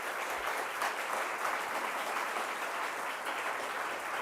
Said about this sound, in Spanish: Les pido un fuerte aplauso para nuestro panel de lujo